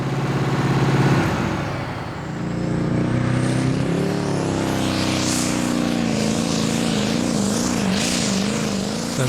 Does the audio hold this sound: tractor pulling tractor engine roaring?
yes